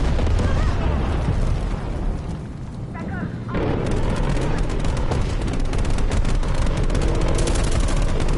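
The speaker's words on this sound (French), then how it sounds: "Frappe au napalm en approche." A napalm strike explosion in Call of Duty Black Ops Cold War, a loud roaring blast that dips briefly then surges back into a dense, continuous rumble of fire and crackling debris.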